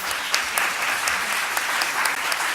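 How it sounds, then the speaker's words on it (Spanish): A seated audience at a national conference session in Buenos Aires gives sustained applause, dense even clapping that holds steady throughout with a few sharper claps standing out. "Merecido aplauso."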